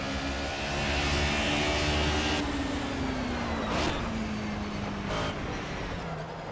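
A race car in the Project CARS driving game runs at speed, its engine note rising and then sliding gradually down as it brakes. Short bursts of tire and road noise break through the steady drone.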